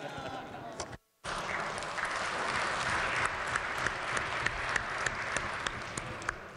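Lawmakers applaud in the West Virginia legislative chamber, a broad, continuous patter of clapping that fills the room after a brief dropout, moderately loud and sustained with scattered sharper claps.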